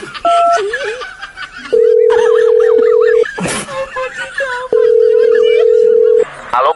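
A phone dials out, then a steady ringing tone sounds in two long stretches, with chuckling and voices between and over the tones.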